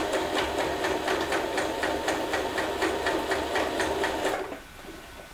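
A W6 Wertarbeit N1615 sewing machine stitches through a thick layer of fabric, its needle thumping in a steady rapid rhythm close by, running alone for over four seconds before stopping abruptly.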